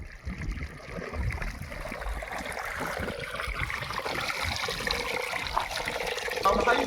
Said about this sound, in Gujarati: પાણી હવે આવે છે